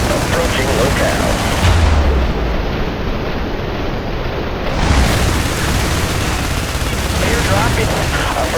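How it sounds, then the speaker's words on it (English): Artillery support fire in the game IS Defense, harbor level, rumbles as a dense, loud, continuous barrage of explosions and gunfire that fills the whole stretch. "Artillery support."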